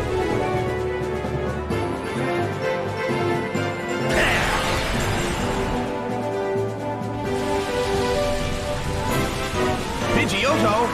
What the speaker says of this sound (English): It's pouring rain in the Colosseum.